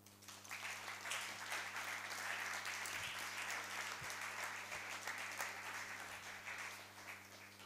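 Audience applause at the Rheintaler Gründerforum, a founders' event, as the stage is handed over: a steady, dense wash of clapping from a large crowd that holds for several seconds with no talk over it, under a faint steady electrical hum.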